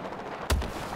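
A single sharp, loud sniper rifle crack in a multiplayer shooter game cuts through quiet background hum, with a short echoing tail after the shot.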